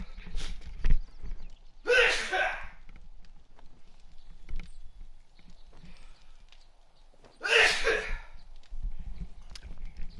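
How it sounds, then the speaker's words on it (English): Two sharp, bursting sneezes from a person during a video game stream, several seconds apart, loud and close, with quiet breathing and faint noise in between. "I sneezed 3 times."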